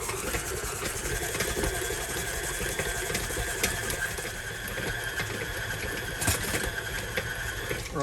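Electric mixer steadily beating cinnamon roll cookie batter in a bowl, a continuous whirring motor drone with faint rattling, close and constant throughout with no talk.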